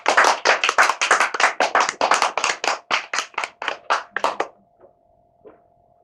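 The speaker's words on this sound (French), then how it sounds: "J'applaudis très fort." One person claps hands loudly at 8 pm on a quiet residential street, about twenty sharp, evenly spaced claps that echo, then stop and leave near silence with a faint tone.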